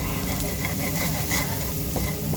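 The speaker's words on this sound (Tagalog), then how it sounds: "nilagay na po natin ang ating sibuyas habang tinutunaw natin yung ating butter" Chopped onion sautéing in melting butter in a pan for pininyahang manok, giving a steady, soft, continuous sizzle at close range with no talking.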